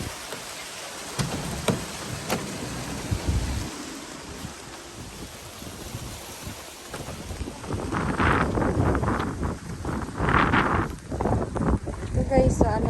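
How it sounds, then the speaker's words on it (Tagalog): Strong wind gusts outdoors on a cold day, roaring and buffeting the microphone in swelling bursts that grow louder toward the end, with rain-like noise and a few faint voices underneath. "Lalo na lumakas yung hangin."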